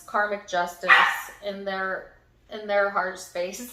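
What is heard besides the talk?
dog barking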